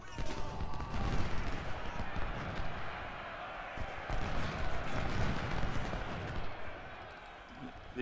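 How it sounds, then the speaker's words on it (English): Artillery guns fire in Ultimate General: Civil War's Malvern Hill battle, a steady rumble of distant cannon booms and battle noise rolling on for several seconds while someone talks over it. "Oh, his guns have turned around and fired on me."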